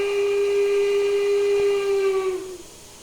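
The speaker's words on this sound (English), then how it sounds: "So you got toot, long whistle," A long steam whistle from a UP Rogers 4-4-0 steam locomotive in Train Simulator Classic, a loud sustained tone over steady hiss that cuts off near the end.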